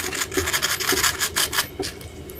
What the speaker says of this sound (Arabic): عايزاكم بقى ايه تسمعوا القرمشه